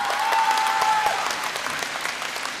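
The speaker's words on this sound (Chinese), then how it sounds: "那掌声当然了，掌声再热烈点会更好的" An audience at a Deyunshe crosstalk show claps warmly, a dense burst of applause that is strongest at the start and gradually thins out, with a brief tonal whine early on.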